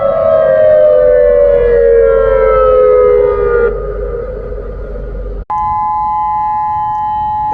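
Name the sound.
tsunami warning siren going off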